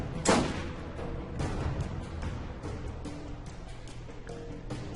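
Gunfire in the video game Borderlands: a heavy boom opens, followed by a few muffled, spaced shots and thuds over a dense, rumbling game soundscape.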